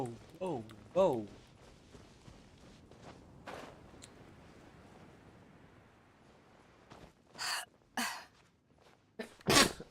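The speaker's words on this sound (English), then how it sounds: "I be sneezing." A person talking during a Genshin Impact gaming session breaks off, and then several sharp, loud sneezes burst out close by toward the end, separated by quieter pauses.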